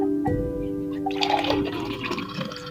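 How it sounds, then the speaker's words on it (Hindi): Water gushes from a pipe into a storage drum in a village, a close, turbulent rush and splash that sets in after a brief tonal hum and carries on for a few seconds with no talking. "ये पाइप का पानी है, अभी आपके सामने इस पाइप से लिया गया है।"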